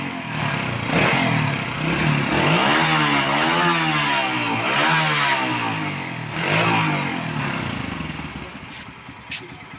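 A Deluxe 125 motorcycle engine, mid-repair on its rectifier wiring, revs loudly and close up, the throttle opened and eased in repeated rising and falling surges over a steady idle.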